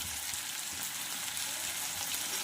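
Mashed brinjal bharit frying in a pan, an even, close hiss and crackle of hot oil with a few soft stirring scrapes, steady in level and free of speech.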